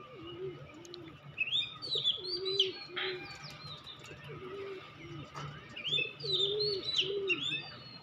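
Pigeons on a small pigeon farm coo in repeated low, rolling phrases. Chirps and tweets from other birds sound over the top, and the whole scene is moderately close and fairly quiet.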